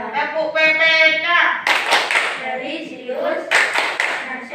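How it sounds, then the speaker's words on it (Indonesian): Children in an Indonesian primary school classroom doing the Tepuk PPK clapping chant, a teacher's voice followed by sharp rhythmic hand claps that come in short groups between the spoken chant. "Sekarang kita tepuk PPK dulu ya."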